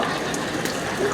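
Small stream of water dribbling from a dog fountain on a street in Lucerne, a steady soft splashing and trickling that runs evenly throughout.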